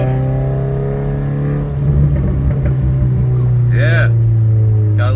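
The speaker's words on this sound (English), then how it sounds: "got a little bit of backfire there" A straight-piped 2015 Subaru WRX engine drones at a steady low idle, then revs up with a rumbling rise, close and loud, with a voice speaking over it near the end.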